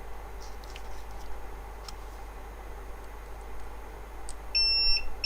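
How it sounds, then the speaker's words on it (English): A multimeter set to continuity mode on a laptop motherboard gives a short electronic beep near the end, after faint ticks and probe taps over a low steady hum. "Let me set it on the beep mode, my multimeter"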